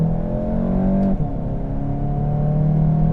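A 2019 Volkswagen Rabbit GTI in sport mode pulls hard from a standstill, its turbo engine giving a steady, droning growl inside the cabin, with a brief dip partway through before the pull carries on.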